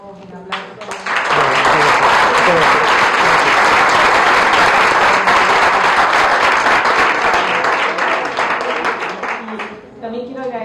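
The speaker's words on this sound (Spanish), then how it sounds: "Yo les pido que le demos un aplauso." Lecture audience at a university gives sustained, loud applause, a dense wall of clapping lasting about ten seconds before tapering off.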